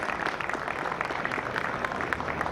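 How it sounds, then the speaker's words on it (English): Applause from an audience for a venture mentoring team at a live startup event, a steady continuous clatter of many hands clapping throughout, moderately loud. "I would love to ask you for a round of applause to the venture mentoring team and to the Emerge team that is been supporting the startup"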